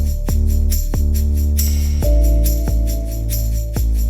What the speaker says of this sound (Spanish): Y un piano que suena así.